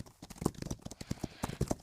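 Horses gallop through Roblox Wild Horse Island, a quick, uneven patter of hoofbeats that stays fairly faint and distant throughout, with no voices over it.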